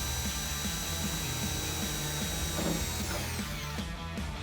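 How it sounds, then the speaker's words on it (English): A power drill with a larger bit bores a pilot hole during a Jeep Wrangler JK fender flare install. The motor whirs steadily and close, and the pitch shifts slightly as the drill slows near the end. "So I did step up my drill bit size just to make sure that we had enough length to reach the other side."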